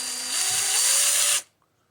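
A power drill bores a guide hole in Pontiac Fiero plastic trim, a loud high whine that rises in pitch for just over a second and then cuts off abruptly to near silence.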